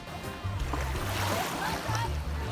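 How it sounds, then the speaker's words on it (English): Waves wash on a lake during a beach day, a loud, steady splashing roar with low hums and scattered tonal squeaks layered through it; no clear speech stands out. "Huh, never knew lakes had waves."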